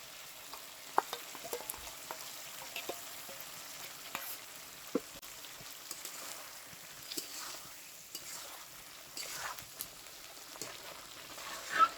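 Chicken frying in a pot for biryani, a quiet bed of sizzling broken by scattered clicks and scrapes of stirring, close but soft, with no talking.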